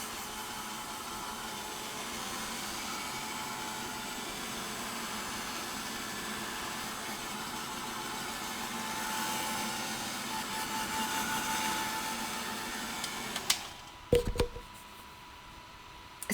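A hand-held dryer blows over a glued art journal page with a gel medium transfer, a steady even whir running for most of the stretch before switching off, followed by a few clicks and knocks.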